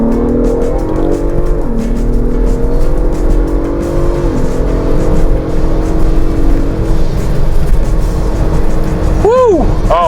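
A Ford Bronco Raptor in Baja mode accelerates hard from inside the cabin, the engine roaring loud and steady as revs climb and shift, with a short chirping sound near the end.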